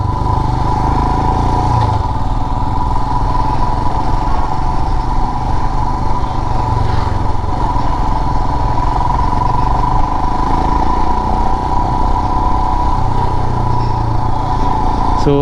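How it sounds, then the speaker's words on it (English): Royal Enfield Himalayan BS6 motorcycle engine and exhaust while riding, a loud, steady throaty drone with mechanical clatter, close up and continuous throughout with no speech. "exhaust note feels throaty."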